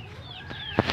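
Chickens clucking at dinner time, a few short faint calls and one sharper squawk near the end over quiet background.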